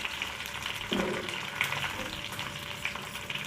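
Hibiscus flowers frying in crackling hot oil to make a homemade hair oil, a steady low sizzle with small pops and a brief stir or clink near the start, heard close and alone.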